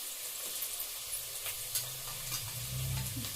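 Ginger garlic paste fries in a pan for pav bhaji, giving a steady close sizzle with scraping stirs of a spoon and a low bubbling hiss that builds toward the end, no voices.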